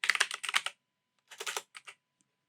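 Typing on a computer keyboard while searching in VS Code: a quick run of clattering keystrokes, a short pause, then a second, briefer burst of taps, close and clear with no talking.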